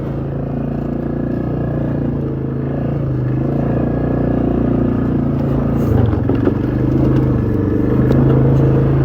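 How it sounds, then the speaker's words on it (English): A Polaris Magnum 330 ATV engine runs steadily at a low, even idle-like drone with light throttle, close and continuous with faint clattering, no talk. "it's a quiet running machine, you know, especially if you're not getting onto the throttle too much"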